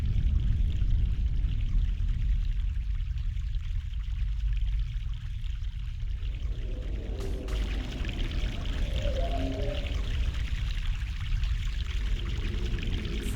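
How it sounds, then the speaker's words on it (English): A mountain stream in the video game The Longest Journey, a steady rush of flowing water with soft gurgles, close and continuous. "Fresh mountain water."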